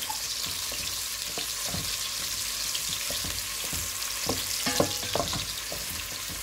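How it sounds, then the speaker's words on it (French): Onions fry in sunflower oil in a pan, giving a steady close sizzle with scattered crackles and soft stirring scrapes, and no talk. "On ne va pas trop mettre d'huile de tournesol. On attend qu'elle chauffe. Plus la chauffer, on va commencer par faire cuire les oignons."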